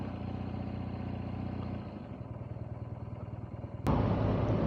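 A BMW R nineT Scrambler motorcycle engine rumbles steadily while riding off-road, a close, even mid-pitched drone with a low throb that jumps louder near the end.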